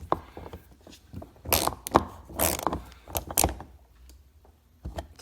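A long Torx screw is worked out of a Chevy Impala door panel, giving faint, irregular ratcheting clicks and scraping knocks scattered over a few seconds.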